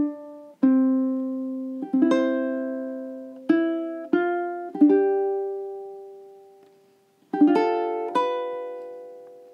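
Fingerstyle ukulele plays the opening bars of The First Noel, including the pickup bar, as clean plucked single notes and small chords with ringing decays. It sounds close and moderately quiet, with a brief pause before the final phrase.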